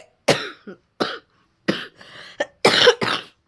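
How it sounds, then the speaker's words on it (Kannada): A pregnant woman coughs repeatedly indoors, about six or seven sharp, close bursts separated by short silences, some doubled into quick pairs. "ಮಾತಾಡ್ತಾ ಇದ್ರು ಕೆಮ್ಮು ಬರುತ್ತೆ"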